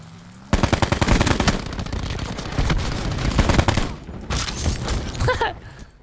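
Rapid automatic fire from a new SMG in the Black Ops 4 video game, loud and close, bursting in after a quiet lead-in and rattling on almost without pause, with short gaps and a fading tail.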